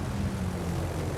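Rocket planes launched from the carrier Lexington in a naval video game, a steady propeller-aircraft engine drone, loud and continuous with no talking.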